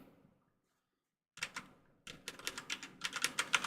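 Typing on a Kinesis Freestyle Edge RGB keyboard: a quick run of crisp, close key clicks that starts after a silent pause, then a denser burst of steady keystrokes.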